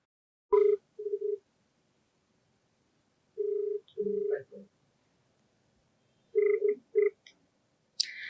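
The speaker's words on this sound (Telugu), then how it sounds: "సో లేట్ చేయకుండా మరి కాల్ చేసేస్తానండి" Phone call being dialed, with a series of short electronic tones in separate bursts followed by ringback-style pulses, clear and close in an otherwise silent line.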